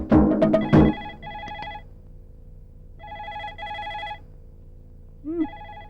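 A telephone rings in repeated electronic trill bursts at moderate volume, following a few louder clattering sounds at the start, with no talk during the rings.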